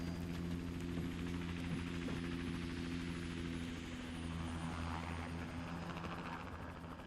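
Helicopter in GTA Online hovering nearby, a sustained low droning engine hum with a fast rotor flutter layered on top, steady throughout and easing slightly toward the end, no voices.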